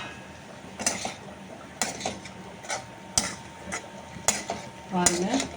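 A spoon stirring plantain poriyal frying in a pan, regular metallic scrapes and taps about once a second over a soft steady sizzle, close up.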